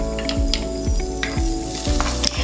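Onion and garlic sautéing in a pan for an octopus coconut stew, with a loud close sizzle and several rhythmic stirring scrapes.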